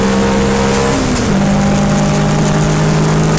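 Race car on the Pembrey circuit in Wales, engine roaring loud and steady as it takes the final corner, its pitch dipping briefly and then holding at a sustained drone.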